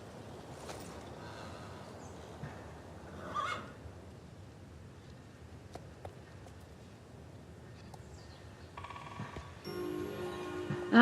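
A horse named Dellinger whinnies in the Star Stable video game, giving one clear neigh near the middle against a quiet game ambience, with a few faint clicks and a louder burst of game sound near the end.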